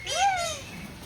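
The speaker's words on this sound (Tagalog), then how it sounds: "It's a pigeon, family of pigeon. They call it convict pigeon." A convict pigeon at a farm gives a single short, rising-and-falling call, close and fairly loud against quiet outdoor background.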